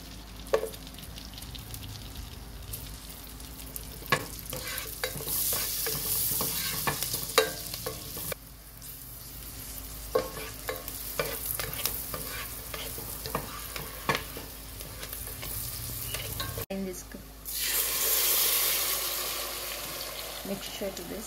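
Green chilies fry in butter and oil in a pan, a steady soft sizzle broken by frequent clacks of a spoon stirring, with brief quiet gaps and a louder sizzling burst near the end.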